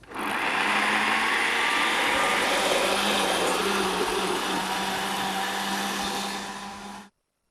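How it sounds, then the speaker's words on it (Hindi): A kitchen blender purées tomatoes in one loud, steady whirring run that lasts about seven seconds and then cuts off sharply, close by and with no voice. "साथ में टमाटर को प्यूरे कर लेते हैं"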